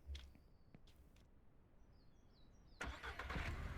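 A car engine in the Ranch Simulator video game starts up and revs near the end after a quiet stretch with faint game birdsong and small clicks.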